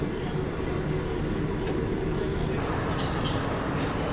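Aboard the Thiruvananthapuram to Mangaluru Malabar Express while it runs, a loud continuous low rumble and rattle of the carriage with steady broadband roar and occasional faint higher clanks.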